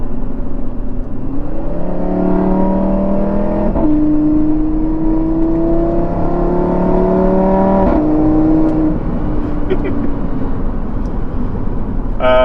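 2016 Audi RS3 five-cylinder engine heard from inside, climbing steadily through two long pulls with a brief break between them, a loud warbling rising tone under constant road roar.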